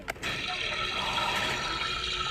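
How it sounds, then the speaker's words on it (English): A toy bathtub's tap sound effect plays a steady electronic rush of running water for a couple of seconds, fairly close, after a brief click at the start. "Turn taps for water sound."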